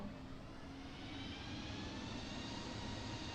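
Airbus A320neo jet engines held at climb power produce a steady, even roar with a faint whine, unbroken and constant throughout, with no speech.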